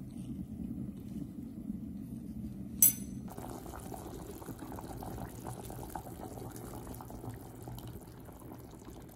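Broth with tomato simmers gently for Salvadoran beans with ribs, a soft steady bubbling with a brief clatter partway through, then quieter bubbling.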